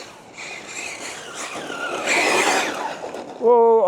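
An RC car slides across a slippery tarmac bend with a rising tyre squeal and buzzing motor, ending in a sharp tonal whine; a voice talks over it.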